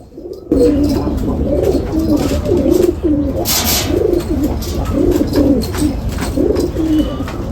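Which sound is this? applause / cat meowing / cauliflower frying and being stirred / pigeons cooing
pigeons cooing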